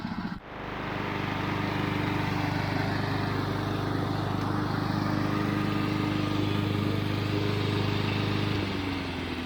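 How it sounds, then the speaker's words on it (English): A Honda HRC216 commercial walk-behind lawn mower runs steadily around a barnyard, its engine droning loud and close at an even pitch after a brief dip at the start, with no talking. "Alright, I finished mowing"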